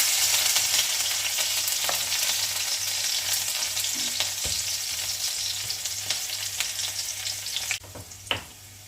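Chopped green chillies sizzle loudly in hot coconut oil, a continuous crackling fry with a few stirring clatters near the end, close and alone without speech.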